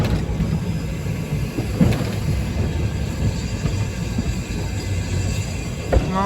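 A train on a Buckinghamshire heritage railway rolling along, heard as a steady low rumble and rattle of wheels and carriages, continuous and fairly loud throughout.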